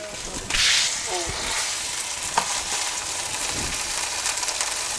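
Uzumi tofu sizzles and fries in a pan with a steady, loud hiss that begins with a sharp burst, close up, along with a few clicks and utensil scrapes.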